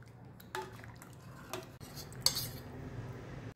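A spoon stirs cooked dal into tangy-sweet amti in a pot, giving a few faint scrapes and light metallic clinks against the vessel in a quiet kitchen.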